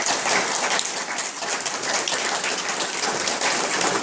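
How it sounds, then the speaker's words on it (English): Audience applause at a city council election candidate forum, a dense hiss of many hands clapping at once, steady and fairly loud from start to end with no voices. "Can we give them a round of applause?"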